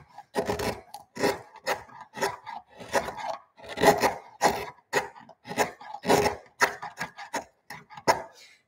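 An Arbortech TurboPlane carves across wood end grain in short chunks, giving a series of loud, close, raspy grinding bursts separated by brief pauses.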